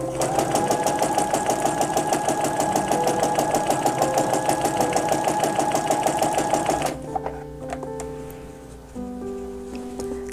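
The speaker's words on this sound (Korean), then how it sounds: "직선 재봉하실 때 노루발 오른쪽을 기준으로 시접 끝부분을 맞추면서 재봉을 하게 되면" A sewing machine runs a straight stitch along the edge of the presser foot, a fast steady rattle of needle strokes lasting several seconds before it stops, followed by quieter handling clicks.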